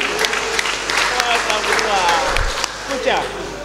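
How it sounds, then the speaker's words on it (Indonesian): Audience clapping at a provincial council plenary session in Gorontalo, a moderate round of applause mixed with crowd chatter and a voice over a hall PA. "Kurang keras tepukannya"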